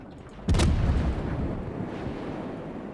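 Naval gunfire in World of Warships aboard the Tier 7 American cruiser New Orleans: one loud, close boom hits, then a long rumbling roll fades under steady background din.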